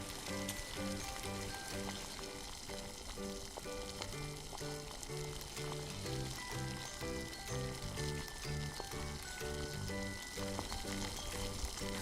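Noodles for Makassar-style Mie Titi sizzle and crackle steadily in hot oil, a constant frying hiss running under a fairly loud, repetitive background music track.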